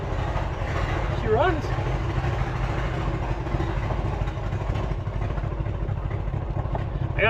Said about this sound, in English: got an exhaust leak on the driver's side, just like Dalton did.